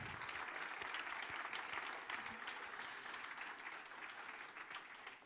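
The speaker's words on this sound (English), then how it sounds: "So another big applause." Conference audience applauding at a tech event opening, a dense, even wash of clapping heard from within a large hall, gradually easing toward the end.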